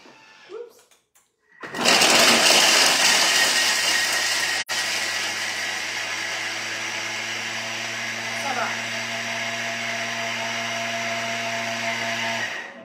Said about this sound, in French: il me demande de le faire tourner 10 secondes sur la vitesse 10. Je vous l'ai déjà dit, la vitesse 10, ça fait beaucoup de bruit.